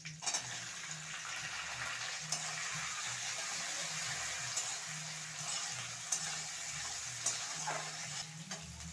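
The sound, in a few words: onion frying in a pan for chilli chicken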